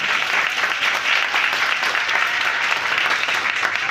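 Steady, dense applause from a hotel function audience welcoming a guest, loud and continuous throughout with no gaps.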